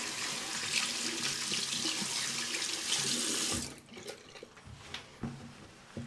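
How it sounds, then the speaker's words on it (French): Tap water runs loudly into a sink as hands are rinsed, a steady close splashing rush that cuts off partway through, leaving faint drips and small handling sounds. "Je vais me rincer les mains."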